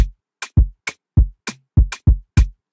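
Simple afrobeat drum loop programmed in Ableton, with punchy kicks alternating with crisp snare and hi-hat hits in a syncopated, bouncy pattern, dry and close, repeating cleanly without any voices.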